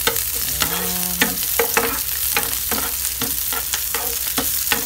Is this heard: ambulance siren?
no